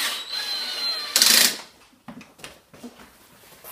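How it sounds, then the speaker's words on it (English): A power drill tightening the bolts on a saddle, a short high whirring burst of the motor followed by a few knocks and clatters as the tool and fittings are handled, close by. "Now I'm using a drill"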